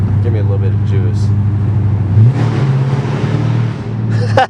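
A 500hp SRT car accelerates hard under a tunnel, its low engine drone rising in pitch midway and holding loud and close, with people talking over it throughout.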